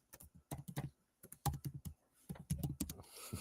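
Close clusters of computer keyboard keystrokes in short irregular bursts, each press a distinct click, with brief pauses between groups and no talking.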